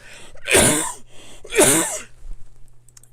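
Two sharp, explosive coughs about a second apart, close and loud, followed by a short faint throaty trailing sound.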